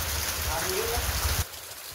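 Steady rain falling outdoors, a dense close patter with low rumble that cuts off abruptly near the end.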